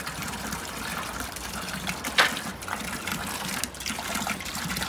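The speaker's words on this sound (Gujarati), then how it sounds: "પાણી ઓછું હતું તો અત્યારે જ મોટર ચાલુ કરી છે અને હવે બસ પાણી ભરાઈ જાય" Water driven by an electric motor pump pours into a livestock drinking trough on a farm, a steady gushing flow with a brief louder splash partway through, heard close by.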